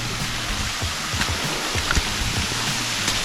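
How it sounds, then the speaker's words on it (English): A small waterfall on a hike makes a steady, close, broadband rush of falling water, even in loudness throughout with small splashy fluctuations. "We've gotten to a nice little waterfall here"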